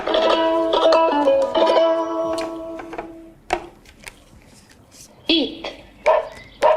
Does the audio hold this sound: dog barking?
yes